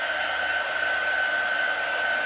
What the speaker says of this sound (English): You can use a regular hair dryer.